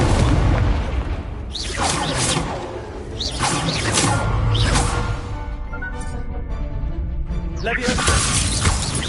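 Incendio fire spell cast in the Hogwarts video game, loud repeated whooshing blasts and crackling bursts layered over dense battle noise, with spoken voices over the combat.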